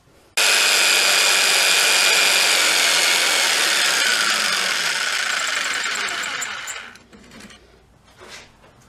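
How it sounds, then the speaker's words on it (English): Jigsaw fitted with a fine blade cutting through a guitar neck blank, a loud, steady high-pitched buzzing cut that runs for about six seconds, then tapers off and stops, followed by faint handling clatter. "we're going to take a jigsaw with a fine blade on it, cut it out"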